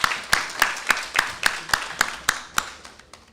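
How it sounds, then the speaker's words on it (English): Slow rhythmic clapping at a debate competition awards, about a dozen sharp, evenly spaced claps at roughly three per second, loud and close, gradually thinning toward the end with no talk over them. "clap them, clap them, clap them."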